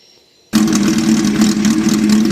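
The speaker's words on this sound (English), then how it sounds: "I don't know if you can hear me over that loud exhaust" After a brief quiet moment, a Suzuki Hayabusa motorcycle with a loud aftermarket exhaust rumbles at idle, deep and steady, close by.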